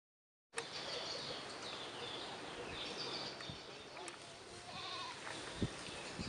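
Goats bleat faintly at a distance among other farmyard noise, with soft repeated calls and a few sharp knocks scattered over a continuous outdoor hiss.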